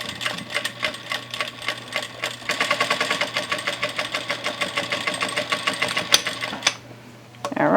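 A Vevor industrial sewing machine stitches fabric for baby bloomers in a rapid, steady mechanical patter. The motor hum runs underneath, the stitching speeds up midway, and it stops near the end.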